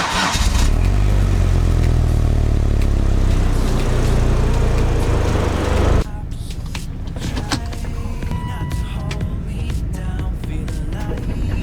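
A Volvo XC90 turbo engine accelerates hard, a loud, steady roar with a rising pitch that fills the first six seconds. Then it cuts to a quieter interior scene with clicks and light noise.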